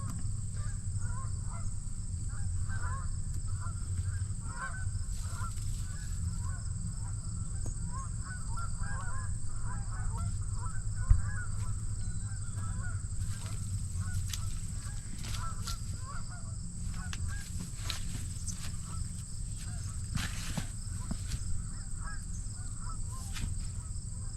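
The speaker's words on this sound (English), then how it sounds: "And the geese are on the move." Migrating geese honk repeatedly over a muddy fall garden. The calls are scattered and fairly distant, set over a steady low rumble and a constant high hiss.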